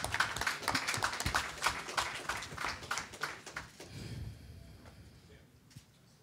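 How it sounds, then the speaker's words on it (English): Audience applause at a boxing post-fight press conference for two fighters: a quiet patter of a few hands clapping that fades over several seconds, with faint talk toward the end. "A round of applause."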